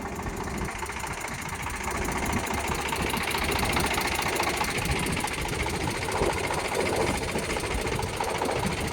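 Eicher 368 tractor engine running steadily with its double PTO engaged, a loud, continuous mechanical chugging and rattling drone that holds close and even throughout, with no voices.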